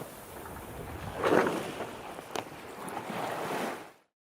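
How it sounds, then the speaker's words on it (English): Water sloshes and hisses around a moving sailboat hull, with a soft rush of wind and a couple of brief splashes, steady and moderately near. "Sailboat."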